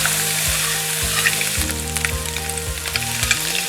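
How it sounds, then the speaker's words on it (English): Chopped bacon fries in olive oil in a pan, giving a steady, close crackling sizzle that runs without a break, with a low tonal hum underneath. "Into a pan you want to put 2 tablespoons of olive oil and then gently fry some bacon."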